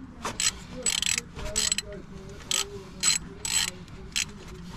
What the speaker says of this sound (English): It's probably not how you take the alternator bracket off, but this is how we're taking it off.